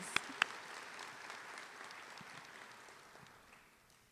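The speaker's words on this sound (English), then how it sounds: "Yes, some applause, please." Applause from an audience at an honors recognition ceremony, faint and fading steadily over four seconds, with two sharp louder claps near the start.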